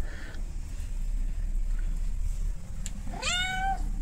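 A street cat rescued at night gives a single clear, rising-then-falling meow near the end, preceded by quiet indoor background hum with no talking.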